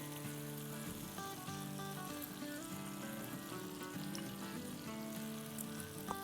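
Green chillies dropped into masala frying in hot oil for a baby bella mushroom handi or karahi, a continuous close sizzle and crackle holding steady throughout, with no talk.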